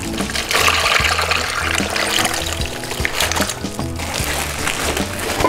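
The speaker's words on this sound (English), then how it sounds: "Take our marinade that we've got and put it all in this bag." Marinade pouring into a plastic bag holding pork butt for jerk pork, a close liquid trickle and splash with some rustling, running steadily throughout.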